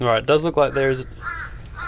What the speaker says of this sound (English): bloody crows. It's the afternoon now, so they're bloody going off